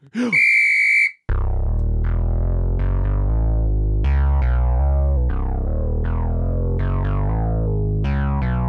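A short, shrill referee's whistle blast rings out, then gives way to a loud, sustained run of buzzing, distorted electronic tones.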